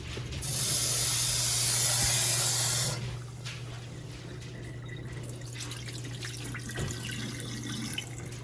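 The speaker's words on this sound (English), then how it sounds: "you have to rinse it, rinse it with water to get the color out" Brown rice is rinsed under running water, with a loud hissing stream for about two and a half seconds followed by quieter drips and wet handling sounds nearby.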